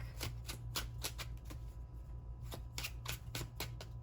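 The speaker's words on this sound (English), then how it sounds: "Let me just shuffle up the tarot cards here really quick." A deck of tarot cards being shuffled by hand, a run of crisp riffling bursts repeating in quick rhythm, close and clear over a steady low hum, with no one speaking.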